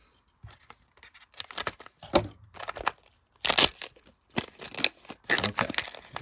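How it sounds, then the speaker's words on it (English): Crinkling, tearing and crunching of packaging being cut open with scissors while unboxing a custom figure, in several irregular bursts separated by brief pauses, close and fairly loud. "I need to get my scissors out."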